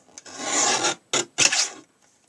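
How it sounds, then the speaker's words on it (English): Paper is sliced with a paper trimmer for a bridge fold card, giving three quick close rasping swipes with short silent gaps between them. "we're coming back in with the trimmer"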